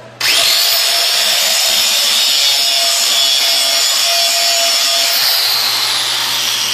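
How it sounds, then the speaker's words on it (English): An angle grinder works a steel weld bead, a loud steady high-pitched whine with harsh metallic grinding that runs continuously, near and alone, easing slightly toward the end. "And if you'll excuse me, Cole, I will be grinding in the section of where you are."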